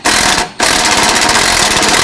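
A power tool rattles loudly and rapidly while removing a 10mm e-brake cable bolt on a 2009-2015 Toyota Prius, with a brief gap between two close bursts.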